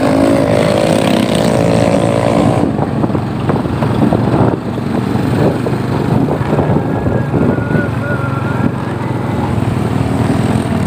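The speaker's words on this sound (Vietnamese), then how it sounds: "Ôi dồi ôi, xe ồn ào quá." A loud, steady motorbike engine roars close by throughout, with a rough, continuous drone and no pauses.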